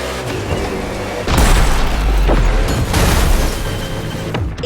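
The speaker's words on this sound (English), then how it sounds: "we are racing in a purely urban race here in Hawaii" Race car engines roar in The Crew Motorfest during an urban street race in Hawaii, loud and continuous, with heavy low rumbles and surges as cars pass or collide.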